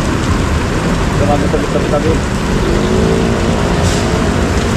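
Heavy rain pours steadily at an outdoor pet market in Bocaue, a dense continuous hiss close by, with people talking over it.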